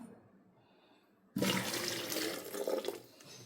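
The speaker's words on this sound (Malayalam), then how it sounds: "ഒരു കപ്പ് വെള്ളം ഒഴിച്ച് കൊടുത്തിട്ടുണ്ട്." A cup of water is poured into a blender jar for a cucumber, ginger and mint juice, a sudden loud rushing splash after a quiet start that tapers off near the end.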